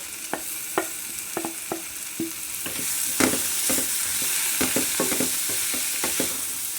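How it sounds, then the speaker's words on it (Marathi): Metal spatula scraping and tapping in a pan in uneven strokes over a steady sizzle of potato, tomato and cauliflower frying for sambar, close up. "चांगलं हलवून घ्यायचं"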